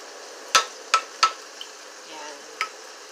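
Garlic goes into a frying pan for a chicken steak dish with soy sauce. Three sharp utensil taps come in quick succession, with a fourth later, over a low, continuous sizzle.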